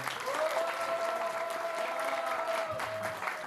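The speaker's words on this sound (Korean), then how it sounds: "큰 박수 부탁드립니다." An audience at a school ceremony marking a scholarship agreement breaks into steady, dense applause that fills the whole stretch, with a sustained tone running through it and some low rumble near the end.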